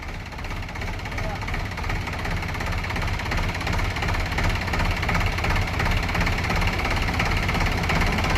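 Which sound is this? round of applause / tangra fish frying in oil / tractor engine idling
tractor engine idling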